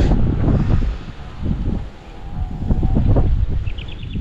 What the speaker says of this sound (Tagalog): Buti na lang mahangin kahit na medyo mainit.